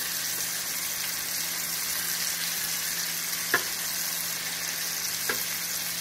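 Pork chops sear in a skillet with a steady, even sizzle throughout, joined by two brief sharp clicks of utensil contact.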